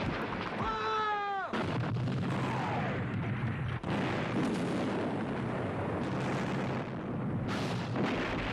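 Cannon fire in a battle scene: a heavy, booming blast followed by sustained rumbling roar, with another sharp boom midway; loud and continuous.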